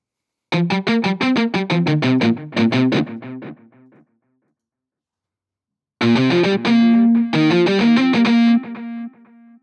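A MusicLab RealEight virtual eight-string guitar played through an Amplitube Mesa/Orange amp simulation: two bursts of fast, heavily distorted picked notes and chords, loud and close, separated by a few seconds of silence, with a final held ringing note.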